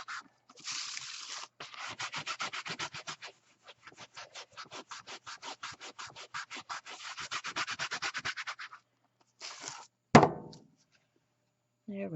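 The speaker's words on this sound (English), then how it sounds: "give this a bit of a buff, just like if you were buffing your shoes" A clean rag buffs a paper craft pocket letter in quick, steady rubbing strokes, a dense run of close, dry scuffs with brief pauses, ending in a louder knock and a short rustle.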